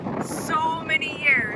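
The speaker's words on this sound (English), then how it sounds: "It's windy though." Wind buffeting a microphone outdoors in Cozumel, a steady low rumble with faint higher tones drifting over it; no words spoken.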